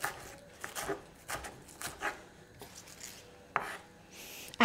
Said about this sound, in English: Just chop it roughly.